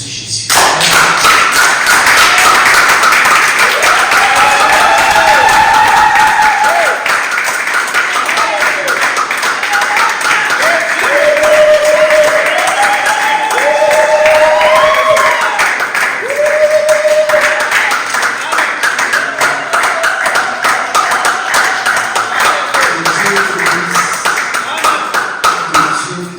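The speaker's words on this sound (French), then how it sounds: "Est-ce que tu peux acclamer pour ce Jésus?" A church congregation applauds and cheers for Jesus, a dense, loud and sustained wash of clapping with voices and musical tones mixed in throughout.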